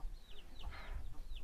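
A chicken gives a few faint, short clucks and chirpy calls over a low background rumble.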